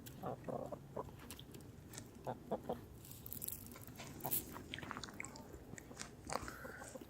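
Backyard hens cluck and peck in a homemade coop and run, with one buff hen lagging behind; soft clucks and pecking or scratching sounds come in scattered bursts over steady outdoor background noise, with no talking.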